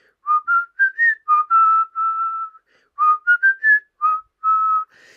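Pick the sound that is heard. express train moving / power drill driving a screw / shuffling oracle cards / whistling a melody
whistling a melody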